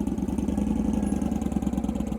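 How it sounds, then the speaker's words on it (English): Motorcycle engine held at high revs during a confidence-building riding practice session, a steady, loud, pulsing mid-pitched drone that runs without a break, close to the listener. "Keep those revs high."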